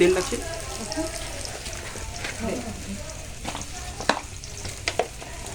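Prawns shallow frying in oil on clay roof tiles, a continuous sizzle and bubbling hiss with occasional sharp pops, heard close and steady, with low voices talking over it.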